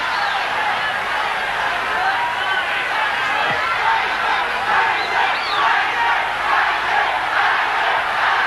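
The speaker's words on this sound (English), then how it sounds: "there's jeering coming in the last round" Boxing arena crowd in the last round of Mike Tyson vs James Smith, a steady dense roar of many voices jeering and calling out, loud and continuous throughout with no clear breaks.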